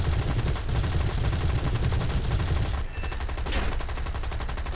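Continuous rapid machine-gun fire in the War Thunder ground strike mode, loud and dense, rolling on without pause for several seconds, with no talking.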